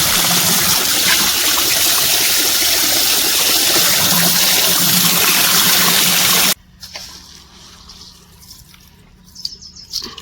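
Water gushes from a motor pump into a farm field in a loud, steady rushing stream that cuts off abruptly partway through, leaving quieter outdoor ambience with faint trickles.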